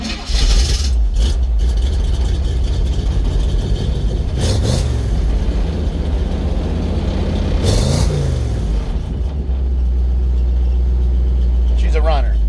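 An old car's engine with an Amazon carburetor and a choke cranks and catches, then runs loud and close as a steady rumble. People talk over it.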